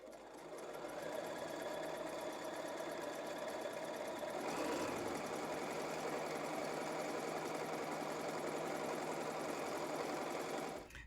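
Stay stitching runs along a fabric side panel for a princess-seam garment, the sewing machine humming in one continuous, steady, close run with a slight pitch lift midway and no talk.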